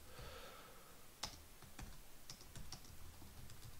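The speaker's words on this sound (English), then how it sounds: "Just by typing in hash and the word work" Keystrokes on a computer keyboard while entering a hashtag into a web dashboard, a quick irregular run of sharp clicks with one louder tap, close and clear with no talking.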